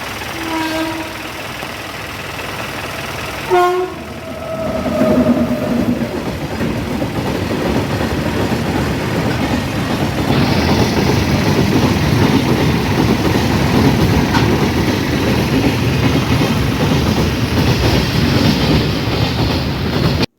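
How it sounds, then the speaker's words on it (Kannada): A train horn sounds, then the heavy rumble and clatter of a passing train fills the air, loud and close, continuing steadily to the end. "ಆಯಿತು ಟ್ರೈನ್ ಹೋಯಿತು"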